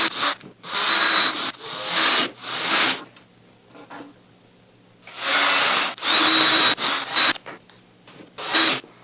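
A power drill boring a pilot hole into a wood frame for an acoustic panel molding, heard as several loud, rasping bursts of a few seconds each, separated by short quiet pauses.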